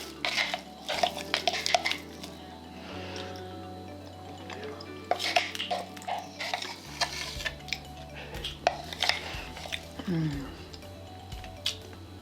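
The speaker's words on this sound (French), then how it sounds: "Je vais mélanger tout ça. Et voilà, on a du beurre de noix." Homemade walnut butter stirred in a bowl, with repeated scraping and clinking of a utensil against the dish and a steady low hum beneath, while a person talks between the strokes.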